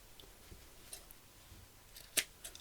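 Scissors snip through a fabric remnant in a quiet sewing room, with a few faint cuts and one sharp, close snip near the end, alone without talk.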